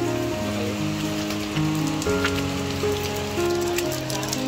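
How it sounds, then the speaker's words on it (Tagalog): Heavy rain pours steadily and loudly, a dense continuous patter on surfaces close by, with a low background hum and no talking. "Grabe yung ulan."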